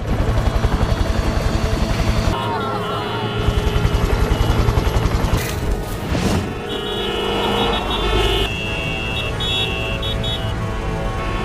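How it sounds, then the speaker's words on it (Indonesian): A helicopter's engine and rotor drone loudly amid mixed vehicle noise and brief tones, a busy cinematic soundscape with no clear voices. "Komisaris Chung datang ke sana dengan menggunakan sebuah helikopter"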